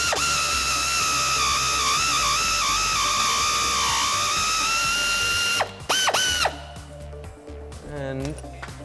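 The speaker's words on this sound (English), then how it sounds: "I have that 15 mil deep socket on my air ratchet" An air ratchet spins a 15 mm deep socket on a sway bar end-link nut, giving a loud, steady, high mechanical whine for several seconds that cuts off abruptly, followed by a brief voice and faint shop sounds.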